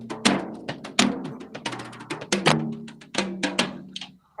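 Twenty-year-old frayed plastic drum brushes played on a drum kit: a quick run of swishy, fat-sounding hits and rolls, close and fairly loud, with no voices over it.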